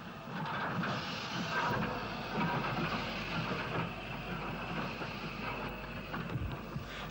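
Steam-era freight train from Portadown rolling towards the GNR goods yard entrance at Grosvenor Road, Belfast, a steady broad rumble with hiss and faint wheel clatter throughout, no voices.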